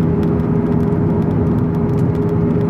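Lamborghini supercar fitted with an Armytrix exhaust, a loud, steady, close raspy engine roar sustained throughout with no talk.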